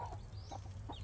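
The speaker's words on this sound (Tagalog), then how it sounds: "Ibigay ko na lang sa isa nating manok dyan." Chickens being fed give faint, soft clucks, a few short calls over a low background hum, with no talk.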